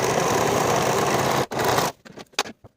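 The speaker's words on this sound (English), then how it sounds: "I'm going to sew finishing stitches from the waist to the hem for both side seams" A sewing machine runs finishing stitches along a skirt's side seams, a steady close whir that stops briefly, resumes, then ends in a few scattered clicks and taps.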